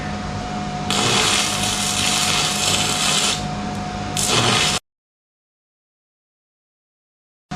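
An ArcCaptain MIG145 Pro welder burns 6011 stick rods with a dense crackling hiss for about four seconds, then goes abruptly silent.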